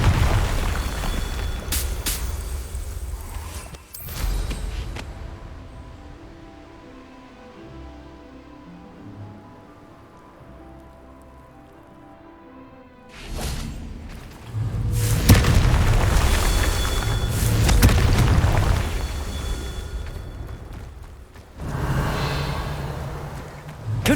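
Confringo fire-spell explosions from the video game Hogwarts Legacy start with a heavy booming blast, then ease into a quieter musical lull. A longer run of deep, rumbling blasts follows, loud and close.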